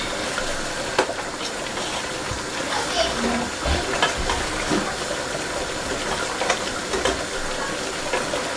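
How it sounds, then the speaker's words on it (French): Chicken cooks in its own juices in a pot for a Congolese dish and is stirred, giving a steady hiss and sizzle with occasional scraping clinks, while a person talks over it. "Donc là, on va mélanger. Là, je mélange."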